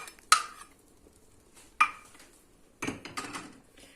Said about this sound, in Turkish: Şimdi içerisinden bir kepçeyle alıp Bunu da ilave edeceğim.